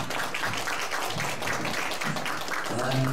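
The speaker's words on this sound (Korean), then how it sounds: "박수로 하나님께 영광을 드리겠습니다." Church congregation applauding in praise after a hymn, a steady dense wash of clapping with a voice or singing rising near the end.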